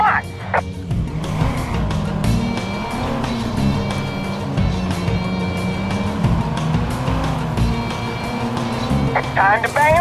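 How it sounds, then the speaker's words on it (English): Cars jostling and ramming during a chase in the video game Watch Dogs, with a steady engine drone, tire squeals and impact bangs near the end, while people talk over the action. "Ram his car."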